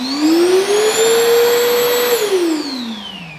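A Bosch GAS 18V-12 MC cordless vacuum cleaner with a brushless BiTurbo motor spins up and runs loud and close, its high whine holding steady before dropping as the motor winds down.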